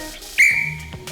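A single short, sharp whistle blast sounds up close at a student science competition, loud and shrill, then quickly fades.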